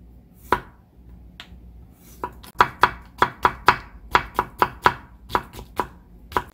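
Knife chopping zucchini into thin strips on a cutting board for a zucchini egg pancake, about a dozen crisp, close, evenly spaced chops in a quick steady rhythm after a couple of isolated cuts.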